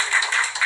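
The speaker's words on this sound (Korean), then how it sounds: "이 코인이 앞으로 대폭발하겠다 싶으시면 박수 한번 해주세요." An audience in a lecture hall claps briefly in response to a call during a talk about cryptocurrency, a short dense patter of many hands close up with no voices over it.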